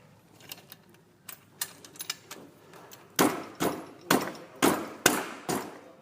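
A tricycle seat post part is tapped into place with a series of sharp knocks, several soft light taps first and then about six louder evenly spaced strikes close by, with no talking.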